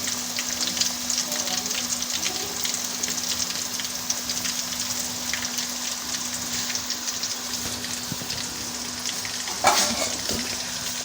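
Fish pieces fry in a masala in a pan with a constant, close, dense sizzle and spatter, and a brief louder scrape near the end.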